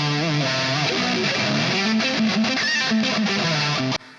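An electric guitar solo plays through a vintage Marshall-style amp tone. It is loud and continuous, with sustained, distorted notes that ring out and bend, then cut off abruptly near the end.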